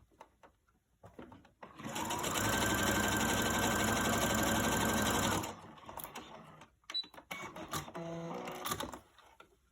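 A sewing machine runs steadily for a few seconds stitching down the pleats on a fabric face mask, close and loud, followed by shorter bursts of stitching and handling noises.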